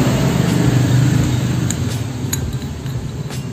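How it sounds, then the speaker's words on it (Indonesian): Rough, gritty mechanical noise from the CVT roller housing of a Honda Beat automatic scooter with worn parts, a steady close grinding rumble with faint metallic clinks throughout. "Jadi suara yang ditimbulkan kasar di motor gue tuh dari rumah lorernya coy."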